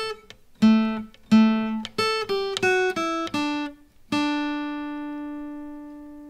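Guitar picks out the Sailor's Hornpipe melody as single plucked notes in a halting, stepwise run, the last note left to ring and fade, clear and close with no voice.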